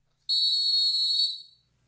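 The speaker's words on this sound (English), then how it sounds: "Blow the whistle." A single shrill whistle blast sounds, one steady high-pitched tone held for about a second before cutting off cleanly, loud and alone against silence.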